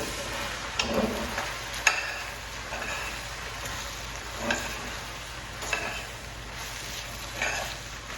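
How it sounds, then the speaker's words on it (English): Spaetzle frying in brown butter and being stirred, a soft continuous sizzle broken by several scraping and clinking stirs of a utensil against the pan. "And we'll give this a quick stir. Mix it in with all that brown butter on there."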